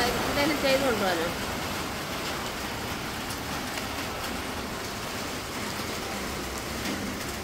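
Evening rain falls around a house as a steady, even hiss of moderate loudness, with a brief voice near the start before the rain carries on alone.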